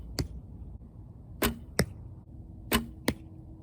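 Arrows from archery practice strike a target in sharp thwacks: one, then two pairs at even spacing, each a crisp close impact followed by quiet.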